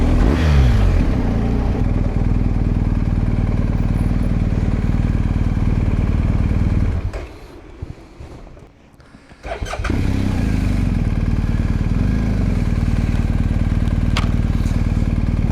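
A BMW R1250GS motorcycle engine runs close by at a steady idle with a throbbing low drone. It drops briefly near the middle, then returns to the same even running.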